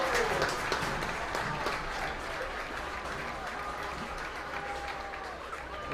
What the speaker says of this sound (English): give a huge round of applause for our generous donors